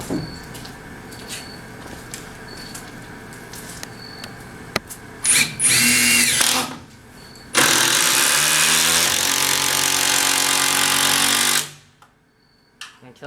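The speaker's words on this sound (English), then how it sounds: "That's the sound of the hammering action." A hammer drill drives screws down into roof trusses for a metal roof, running in loud bursts of a few seconds each with quieter gaps and faint background noise between.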